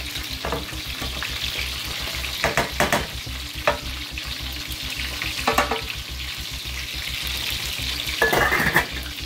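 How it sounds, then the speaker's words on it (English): Rice cooking in a pot on the stove gives a steady sizzle and bubbling, with several soft scraping knocks as a utensil stirs it, close and moderate in level. "I just uncovered the rice to give that a stir."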